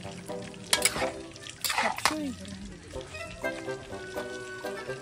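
Broth poured into pancit makes liquid splashing and sloshing with a couple of louder pours early on, then quieter bubbling and stirring, close up, mixed with faint voices.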